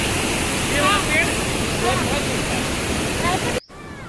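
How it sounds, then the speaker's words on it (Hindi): Steady broadband roar of Lodh Falls, the large waterfall in Jharkhand's Palamu district, rushing continuously and fairly loud before cutting off abruptly near the end. "ये प्रेजेंट में झारखंड का सबसे लार्जेस्ट वाटरफॉल है"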